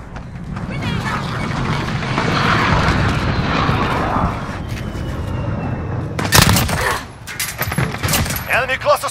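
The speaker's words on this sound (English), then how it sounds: "Got a VTOL on station, ready to deploy." A VTOL aircraft in a video game roars overhead with a broad engine rumble that swells and fades. Sharp booms and crackling gunfire burst in near the end over clipped radio-style talk.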